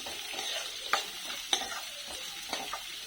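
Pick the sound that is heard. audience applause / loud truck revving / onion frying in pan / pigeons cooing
onion frying in pan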